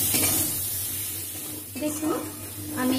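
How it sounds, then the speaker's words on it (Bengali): Hog plum pieces sautéing with salt and turmeric in a pan give a soft, steady sizzle with occasional stirring scrapes, faint and close. "নুন হলুদ দিয়ে আমি এটাকে ভালো করে একটু কষিয়ে নেব"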